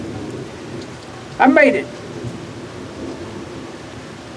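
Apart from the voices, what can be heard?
heavy rain and thunder during a thunderstorm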